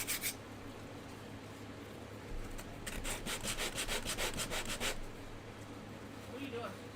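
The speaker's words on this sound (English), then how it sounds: "I am sanding a new base for a new building" Rhythmic scraping strokes of sandpaper on a wooden building base, a burst of quick back-and-forth passes in the middle, close and moderately loud over a steady hum.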